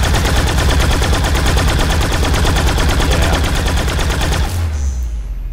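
The Vanu Flare light machine gun in Planetside 2 fires a loud, sustained burst of evenly spaced shots for about four and a half seconds, then cuts off, leaving a low rumbling tail.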